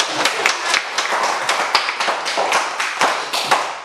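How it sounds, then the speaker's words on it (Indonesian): A classroom group claps in a lively, steady rhythm of repeated sharp hand claps for a few seconds, fairly close and even, with a faint murmur of voices underneath. "Tepuk tangan untuk kita."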